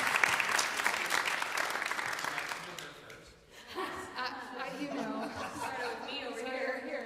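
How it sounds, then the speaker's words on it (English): An audience claps for an honored music teacher, a lively burst of applause that fades after about three seconds into murmuring chatter and light laughter. "Round of applause for Joanne Gross."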